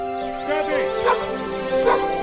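A pet dog gives short yips and whimpering barks as it greets its returning owner, bursts scattered across a couple of seconds close by while people talk excitedly over it.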